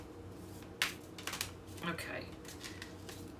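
Tarot cards are shuffled in quick, soft riffling bursts at close range, quiet and brief, with a person saying a single word.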